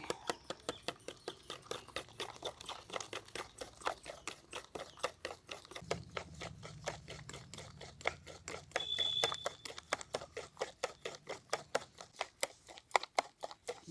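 Moong dal batter for pakoras gets beaten by hand in a bowl, a fast, even train of soft slapping strokes repeating for several seconds with no voices.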